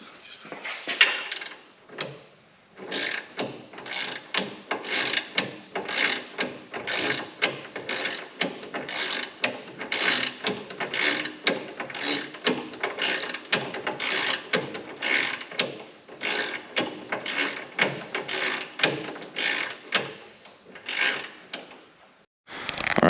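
A ratchet wrench tightens suspension bolts on a lifted Lexus GX. Rapid clicking bursts repeat in a steady back-and-forth rhythm for the whole stretch, close and distinct, with short pauses between strokes.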